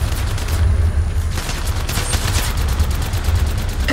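Rapid automatic gunfire from Apex Legends Mobile rattles in dense, continuous bursts over a low rumble, loud and close, with no talking.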